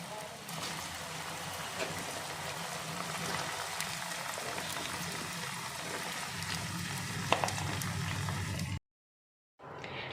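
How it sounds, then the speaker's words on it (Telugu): Cut okra pieces deep frying in hot oil make a steady, dense sizzling hiss that bubbles continuously for several seconds before cutting off abruptly near the end. "ఆయిల్ వేడైన తర్వాత ముందుగానే కట్ చేసి పెట్టుకున్న బెండకాయ ముక్కల్ని ఆయిల్లో వేసుకోవాలి"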